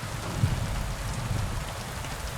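Steady rain falling in the medieval game Kingdom Come: Deliverance 2, a dense continuous hiss of drops on surfaces, moderately loud and even throughout, with no voices.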